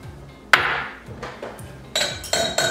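Clinks and taps of utensils against a measuring cup as garlic is added for a shrimp marinade, a few sharp close knocks spread over a couple of seconds.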